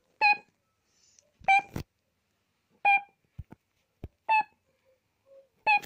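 FNAF 3 video game systems rebooting: loud electronic beeps in separate bursts about every second and a half, with short clicks and thuds between them over a silent background.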